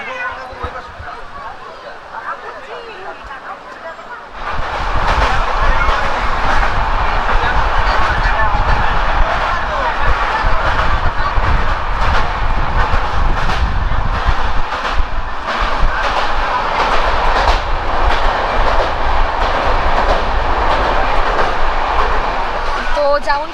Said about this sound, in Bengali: জাস্ট এখন ট্রেনটা যাচ্ছে আর এটারই মজা